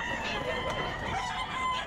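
A Kanawayon gamefowl rooster crows amid the steady, dense background noise of the Bocaue pet market, its call fairly faint and partly blended into the crowd.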